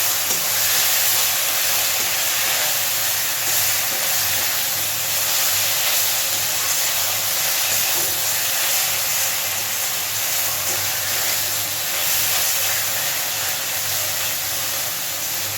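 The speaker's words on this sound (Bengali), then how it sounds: "গ্যাসের ফ্লেমটাকে মিডিয়ামে রেখে একটু সময় নিয়ে সোয়া কিমাটাকে একটু কষিয়ে নেব।" Soya mince sizzles and sautés in a pan over a medium gas flame, a loud, continuous broadband hiss and crackle that holds steady throughout with no voices.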